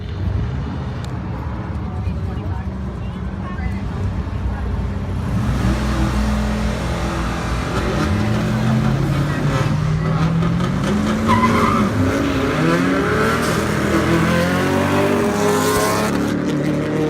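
Drag race cars roar and accelerate down a drag strip, a loud, sustained, rising engine drone with tire noise, continuous for the whole stretch as the revs climb.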